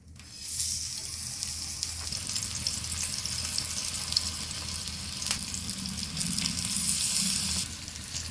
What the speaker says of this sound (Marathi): आता फिशला रव्यामध्ये घोळून फ्राय करायचे आहे।